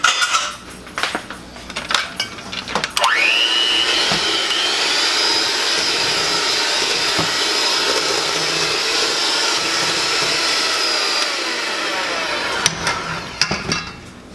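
An electric mixer whirs steadily as peanut cashew butter icing is beaten smooth in a bowl, a loud continuous drone that starts after some clatter and stops near the end.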